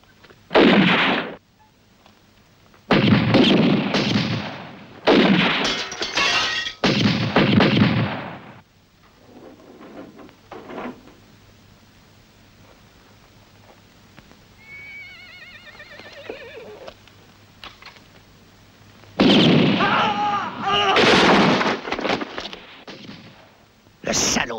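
Loud bursts of gunfire ring out in bunches during a western film shootout, with quieter stretches of faint background noise between the volleys and a brief horse-like sound in the middle.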